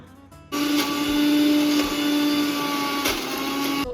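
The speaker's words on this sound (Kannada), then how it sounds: "ಇದು ಡೇಟ್ಸ್ ಅಂದರೆ ಖರ್ಜೂರ, ಇದನ್ನೀಗ ಸ್ವಲ್ಪ ಪೇಸ್ಟ್ ಮಾಡಬೇಕು, ತುಂಬ ಅಲ್ಲ ಸ್ವಲ್ಪ. ಇದನ್ನೀಗ ಗ್ರೈಂಡ್ ಮಾಡುವ." A mixer grinder whirs loudly and steadily as it grinds dates into a paste, starting abruptly after a brief quiet moment and running with a constant motor drone.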